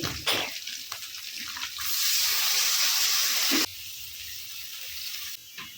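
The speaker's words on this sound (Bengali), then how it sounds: "একটু দিয়ে দেবো পানি" Water poured into a hot pan of frying dried fish hits the oil with a loud, sustained sizzling hiss that lasts a couple of seconds, then settles to a steadier, quieter crackle.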